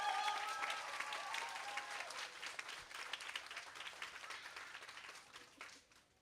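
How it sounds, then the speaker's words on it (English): Audience applause at a kindergarten stepping-up ceremony, a steady, dense clapping from a crowd that starts strong and slowly thins, fading toward the end with no talk over it. "Give him a round of applause."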